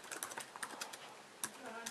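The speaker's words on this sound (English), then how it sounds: "I recommend you typing in your password slowly." Keys tapped on a computer keyboard while entering a password during Windows setup on a 2011 MacBook Pro, a quiet, uneven run of close clicks with a faint voice in the background.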